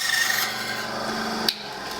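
A bandsaw cuts through a wooden knife handle, a continuous rough rasping hum with a faint tonal whine that ends in a sharp click near the end of the cut.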